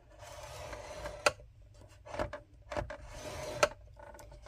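Scoring paper diagonally for a gatefold card: quiet scraping strokes of a scoring tool along cardstock, punctuated by a few sharp clicks and taps in a hushed room with no speech.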